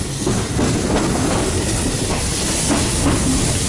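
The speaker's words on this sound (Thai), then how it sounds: "รถไฟกำลังวิ่ง ฝ่าหมอกจางๆ ออกไปนะครับ" A passenger train on the Nam Tok–Thonburi line in Thailand runs through light morning fog, a loud, steady rumble and rattle of wheels and carriages with rhythmic clicks on the rails, heard from on board.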